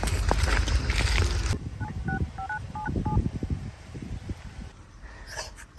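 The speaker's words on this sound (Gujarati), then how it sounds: "તો નાથ્યાને ફોન કરી લે ને વાત કરી લો તમે" A phone number is dialed with a quick sequence of about eight keypad tones, coming just after a loud rumbling burst, with scattered thumps and a faint dog-like whimper nearby.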